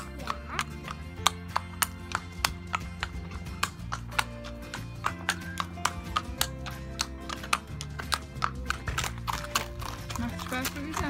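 A pony walks on a hard surface, its hooves clip-clopping in a steady, close rhythm under light background sound.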